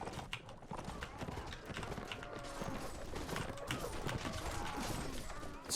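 Cavalry in the Mount & Blade: Warband video game charges, with rapid overlapping hoofbeats clip-clopping steadily amid a dense battle din, fairly faint overall.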